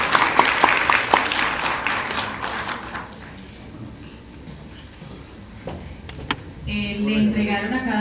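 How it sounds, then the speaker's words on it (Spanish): Audience applause for the panelists at a forum on peasant rights and land access, a few seconds of clapping that fades into quieter room noise with some voices and a later tone. "Quiero pedir un aplauso para todos nuestros panelistas"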